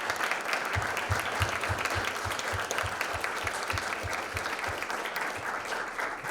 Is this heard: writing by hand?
no